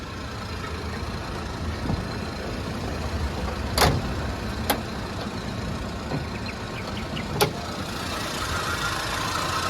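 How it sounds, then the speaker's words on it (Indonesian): The engine of a 2001 Suzuki Katana 4x4 idles quietly and steadily, with a few faint clicks and taps over the low hum. "Sekali start langsung nyala. Jadi mesinnya sangat halus kalau ini."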